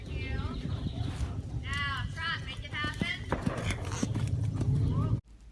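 A thoroughbred horse runs with rapid, rhythmic hoofbeats at close range under a rider who is struggling to stop it, while a voice talks over the galloping.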